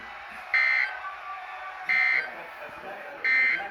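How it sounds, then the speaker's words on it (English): Three loud, evenly spaced beeping bursts from a NOAA weather radio warning alarm test for Birmingham, Alabama, each about a third of a second long with a steady pitch, over a quieter broadcast-voice background. "This has been a test of the NOAA radio warning alarm device."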